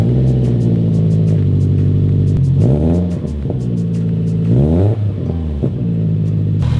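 A 2005 car engine idles loudly nearby, then revs twice in quick swells before settling back to idle, heard alone with no voices.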